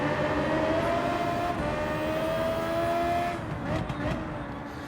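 Race car engine in Gran Turismo 7, a high-revving machine droning steadily with shifting pitch through the whole stretch, then easing slightly near the end; loud and continuous with no talk.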